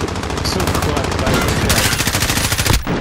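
Rapid automatic gunfire in a Call of Duty match, loud and close, bursts of shots rattling continuously for about three seconds with a short gap near the end.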